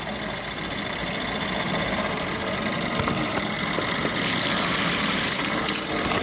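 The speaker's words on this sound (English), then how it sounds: "Now we're making hot water at our tap." Hot water gushes steadily from a tap supplied by a tankless water heater in a travel trailer, a loud constant rushing with a faint pump-like hum beneath and no talking.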